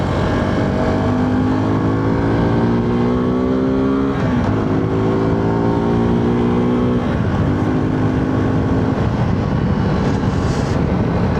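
A Suzuki V-Strom 250SX motorcycle accelerating hard on the road, its engine rising in pitch through several gear shifts over loud, constant wind rush.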